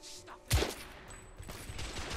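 Gunfire in the video game The Order: 1886, a sudden loud burst of shots followed by lighter scattered fire and game ambience.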